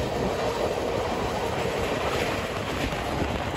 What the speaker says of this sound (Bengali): ট্রেন কিন্তু এবার মৌরিগ্রামের দিকে এগোচ্ছে এবং লাইন কিন্তু চেঞ্জ করছে